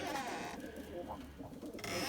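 Pigeons coo softly in a crowded pigeon loft full of birds, low repeated murmuring calls blending into a steady, fairly quiet background.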